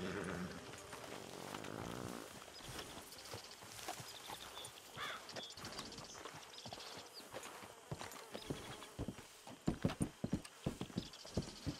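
Horse hooves clip-clop in Red Dead Redemption 2, an irregular run of close hoof beats that speeds up and grows louder toward the end, with a whinny-like sound early on and no talking.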